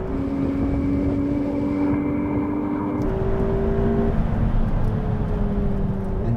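A McLaren 720S accelerates hard in a drag race against a Ferrari 488 Pista and Lamborghini Aventador SV, a loud continuous engine roar with rising tones and a gear change partway through, heard without talk.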